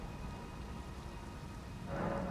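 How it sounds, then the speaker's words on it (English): Steady rain ambience from the video game Elden Ring, a constant hiss of rainfall with a low rumble, swelling slightly louder near the end, with no voices. "Still raining."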